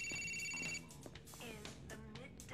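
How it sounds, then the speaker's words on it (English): A mobile phone rings in Grand Theft Auto IV, with a brief electronic ringtone at the start, after which voices talk over game ambience. "The phone's ringing."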